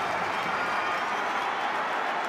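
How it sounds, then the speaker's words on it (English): A Derry crowd roars at a Gaelic football match against Dublin, a steady, broad wash of cheering and clapping from a large stadium audience that fills the whole moment without a break. "And now the Derry crowd are on their feet."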